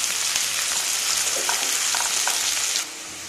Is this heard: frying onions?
yes